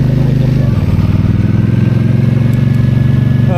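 A Benda Napoleon 450 motorcycle on a test ride hums with a loud, steady low engine drone at a constant pace, close to the listener with a slight shift near the start.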